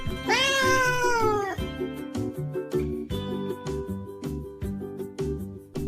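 A cat gives one long, clear meow near the start, then rhythmic background music plays alone with no voices.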